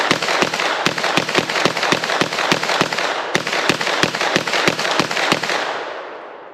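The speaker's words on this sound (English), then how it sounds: "And now let's try it with a B&T mag." Beretta PMX-S pistol fed from a B&T magazine fires a rapid string of sharp, loud shots at an outdoor range, about a dozen in quick succession, a brief pause, then another burst before the echo fades.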